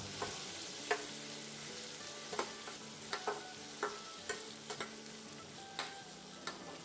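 Tomatoes are sautéed in a pan for fish gravy, with a soft continuous sizzle broken by repeated sharp clicks and taps of a spatula against the pan.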